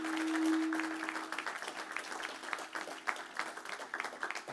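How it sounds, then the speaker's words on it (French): A church congregation claps in steady, rhythmic unison, a warm sustained wave of many hands with a faint held tone at the start and no voices on top. "J'aimerais que nous puissions acclamer encore pour le Seigneur"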